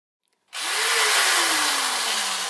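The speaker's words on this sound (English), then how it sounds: "So that drill is probably as old as you are, Jessica." An old electric drill whirs up suddenly after a brief silence and keeps running steadily at close range, its pitch sagging slightly as it labours.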